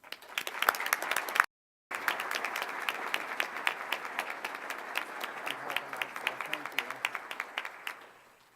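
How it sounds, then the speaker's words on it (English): Audience applause for award recipients at the 2015 Health Transformation Awards ceremony: a room of steady, dense clapping that breaks off briefly, resumes and carries on evenly before fading out. "So please join me in applauding their efforts"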